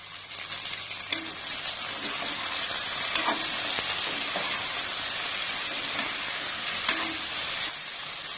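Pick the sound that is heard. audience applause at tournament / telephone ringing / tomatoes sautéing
tomatoes sautéing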